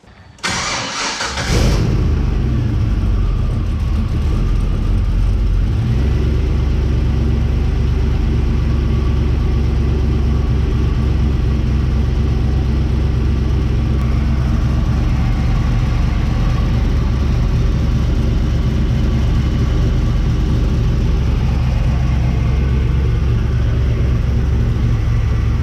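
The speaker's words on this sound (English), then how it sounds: "we'll turn it back on so you can at least hear the camshaft" A Nissan 240SX with a turbocharged 6.0L engine and aggressive camshaft cranks and fires up, then settles into a loud, choppy idle with an uneven, lopey rhythm throughout.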